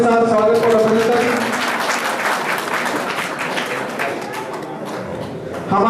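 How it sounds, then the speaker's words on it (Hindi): A crowd at a community welcome gathering in Jaswantgarh breaks into loud, enthusiastic applause, a dense burst of clapping that begins after a brief voice and tapers off near the end. "जोरदार तालियों के साथ स्वागत और अभिनंदन।"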